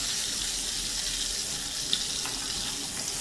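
Mackerel fish fries in a pan over a medium flame, giving a steady, moderately quiet hiss and sizzle throughout with a faint tick or pop near the middle.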